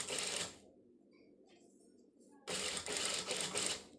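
A sewing machine stitches lining fabric around a neck piece, running in two loud, steady bursts with a quiet pause between them.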